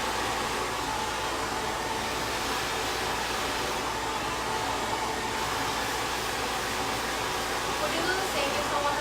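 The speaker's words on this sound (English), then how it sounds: "As I'm drying this hair, I'm pushing this all forward at the front." A hair dryer blowing steadily while long hair is styled and pushed forward at the front, a loud constant whooshing roar close by under continuous talk.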